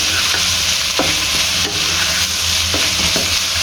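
Finely chopped green chillies are stirred into a sizzling mixture for chicken fajita rice, with a loud, dense frying hiss under a few sharp spoon scrapes against the pan, close up and without speech.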